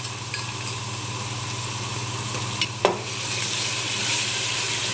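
Onion and garlic frying in oil produce a steady, even sizzle close by, over a low hum, with a couple of faint clinks from a utensil.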